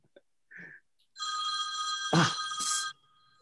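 A telephone bell rings in short bursts during an online talk session, loud and close, its tone broken by small gaps and a brief knock.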